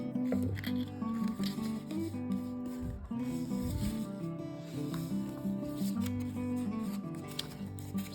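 Close, quiet snips and rubbing of paper being trimmed with scissors for a dragon puppet, set against a soft musical background, with a few irregular cuts and rustles.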